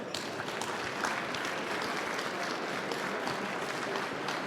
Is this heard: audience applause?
yes